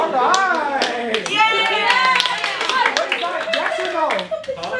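Children at a mock United Nations session clap in short, scattered bursts during a vote, mixed with lively overlapping chatter from the young delegates.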